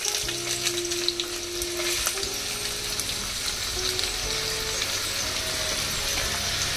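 Chopped onion pieces fry in hot oil in a pan with a steady, bright sizzle that continues throughout, with occasional stirring scrapes and faint background tones.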